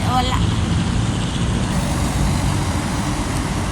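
Busy road traffic in the Philippines with cars, trucks and buses rumbling by nearby, a dense and continuous low engine roar that stays loud across the whole stretch.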